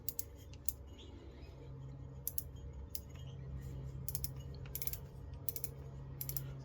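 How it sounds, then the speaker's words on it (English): A Shimano Ultegra FD C3000 spinning reel's drag gives off quiet, sharp clicks in scattered quick bursts over a low steady background hum, the clicking coming in short ratcheting clusters. "there's the drag clicking sound from the Ultegra"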